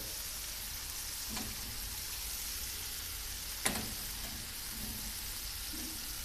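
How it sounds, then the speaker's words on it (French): Carrot pieces cook in a pan for a homemade vegetable gratin, giving a soft steady sizzle with a couple of sharp clinks of a utensil. "notre carotte qui est en train de cuire"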